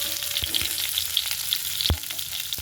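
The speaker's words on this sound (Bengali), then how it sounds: "আমি পটলগুলো ভাজি, এতে কিন্তু লবণ হলুদ কিছু দেবে না, এমনি ভাজবো" Pointed gourd (potol) pieces fry plain in a pan with no salt or turmeric: a steady, close sizzle with scattered crackles and one sharp knock near the end.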